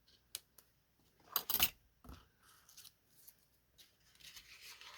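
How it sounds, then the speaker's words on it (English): Scissors snipping through paper card for a scenic coast diorama card, a few quiet close crisp cuts with a louder pair of snips in the middle, surrounded by faint handling rustles. "let's go ahead and snip"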